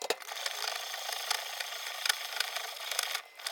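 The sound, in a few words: crumbling Parmigiano Reggiano cheese by hand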